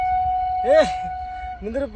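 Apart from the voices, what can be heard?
passing train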